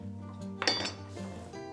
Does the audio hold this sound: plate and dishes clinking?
yes